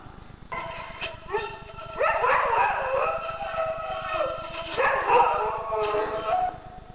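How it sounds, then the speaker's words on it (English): Dog howling and yipping in drawn-out, wavering cries, isolated from a violin duet by audio source separation, two main howling phrases with brief gaps, moderately close with a faint processed background. "Now let's hear the dog sound."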